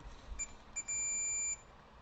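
A multimeter in continuity mode beeps while a switch is tested: a short beep, then a longer steady tone lasting under a second, faint and alone.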